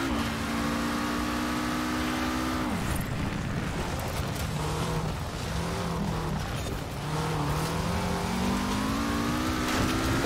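A Lego car in the Forza Horizon 4 racing game drives with a steady engine drone, shifting pitch as it revs up and down through gear changes, loud and close throughout.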